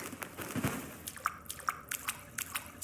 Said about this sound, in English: There, we hear water.